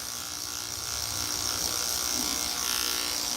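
Electric clippers buzzing steadily at close range while shaving a matted Coton de Tulear dog, a constant high-pitched motor hum with no talk.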